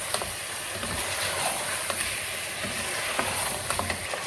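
Chicken pieces fry in a pan for shahi korma, a steady loud sizzle with occasional sharp crackles and pops running throughout without any talk.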